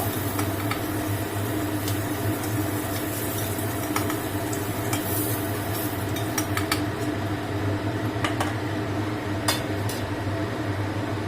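Fried pointed gourds lifted from a pan for a stuffed parwal dish, with light clinks of a utensil against the pan over a steady low hum, several small metallic ticks scattered throughout.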